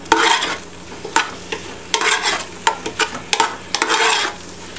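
Mushrooms and onions in soy sauce sizzle in a pan as a spoon stirs them in short repeated bursts, each pass bringing a brief surge of frying hiss, close up and with no voices.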